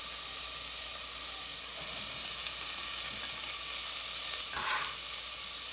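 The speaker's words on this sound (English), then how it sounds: "adding that onion and garlic in there" Chopped onion and garlic sizzling in a pan for butternut squash soup, a steady bright frying hiss that stays even throughout, close up, with no talking.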